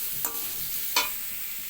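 Cumin powder being stirred into pumpkin and potato in a frying pan, a steady low sizzle with two distinct scraping strokes of the spoon, close and without talk.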